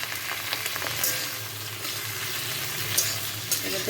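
Onion and capsicum sizzling steadily in a hot pan, a continuous close frying hiss with light stirring scrapes now and then, no talking.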